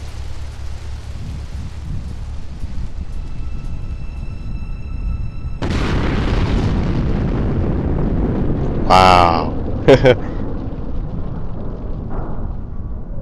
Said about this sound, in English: Massive explosion on the bridge.